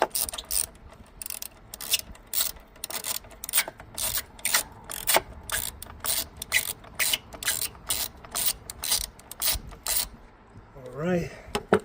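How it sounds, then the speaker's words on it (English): Ratchet with an extension and 12mm socket loosening a car battery bolt on a Hyundai Veloster, a fast rhythmic series of close clicking strokes, then a brief murmur of talk at the end. "for that I'm using extension on my ratchet, and at the end is 12mm socket"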